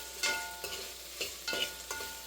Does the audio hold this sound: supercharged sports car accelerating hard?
no